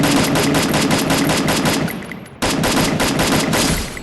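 Rapid automatic gunfire from the Garena Free Fire video game rattles loud and close in dense bursts, with a brief gap before the firing resumes.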